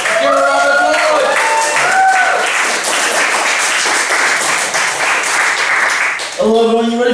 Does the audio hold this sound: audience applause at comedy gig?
yes